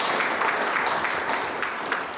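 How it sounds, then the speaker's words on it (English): A conference crowd applauds steadily, a dense patter of many hands clapping at once, sustained and fairly loud, tapering slightly at the end. "So please join me in a round of applause for Jayant and Rajni for putting on this fin"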